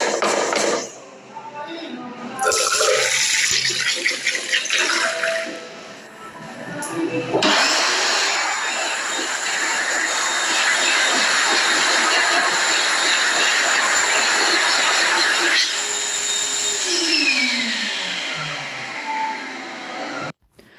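A Canon GSQ 90 hand dryer in an accessible toilet blows with a loud, steady roaring rush of air that starts after a few seconds, runs for several seconds and then winds down, with brief talk beforehand.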